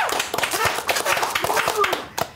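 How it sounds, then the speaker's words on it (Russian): A studio audience at a televised quiz show applauds with a dense patter of clapping through the whole stretch, fading near the end, while a voice talks over it. "Ваши аплодисменты."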